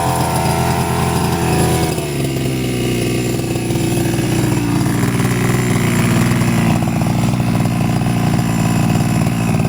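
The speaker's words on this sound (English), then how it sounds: "Starts up like a normal engine that would need to warm up or whatever, you know." A toy RC car's small nitro engine runs loud and steady up close after starting, with a buzzing, chainsaw-like drone that holds throughout.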